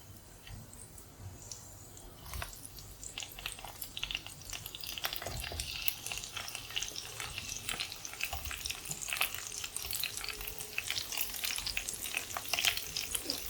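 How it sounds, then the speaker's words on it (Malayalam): Chopped brinjal sautéing with garlic in hot oil, a continuous close sizzle that grows busier as it goes, with soft scraping stir strokes and no talk. "എഴുതനങ്ങ എണ്ണയിൽ നന്നായിട്ട് നല്ല വഴറ്റി ഒന്ന് വെന്ത് വരുന്ന വരെ നമുക്കൊന്ന് ഇളക്കാം"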